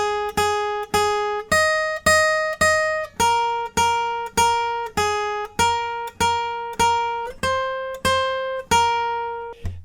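A guitar picks the steady melody line of a song, about fourteen evenly spaced, clear ringing notes played alone, each decaying before the next pluck.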